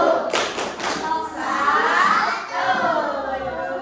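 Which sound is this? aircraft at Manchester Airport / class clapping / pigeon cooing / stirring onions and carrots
class clapping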